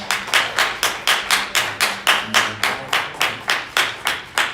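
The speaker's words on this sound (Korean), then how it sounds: "우리 앉은 채로 박수 한번 격려해 주시겠습니다" A seated church congregation claps together during Sunday worship, sharp evenly spaced claps in a steady unison rhythm, about three per second, loud and close with no talk.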